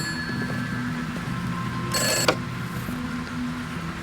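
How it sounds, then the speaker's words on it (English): A single short, bright electronic telephone ring bursts out midway over a low, sustained musical drone, then stops abruptly. "Nothing to be afraid of, Harper. It's just a phone"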